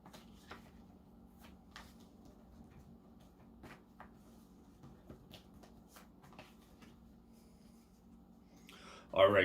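Tarot cards shuffled by hand, soft irregular riffling and tapping close by at low level, ending in a louder burst of handling noise.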